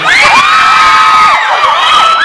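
Concert audience screaming as a Thai pop singer takes off his glasses, a loud sustained high-pitched shriek from a crowd that swells, dips briefly and rises again, with no talk over it.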